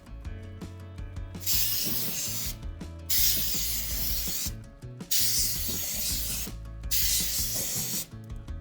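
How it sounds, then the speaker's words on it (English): Several sharp hissing bursts of canola oil aerosol spray onto a grill repeat at regular intervals, with clicking and rattling in the pauses between them. "I'm gonna use a canola spray"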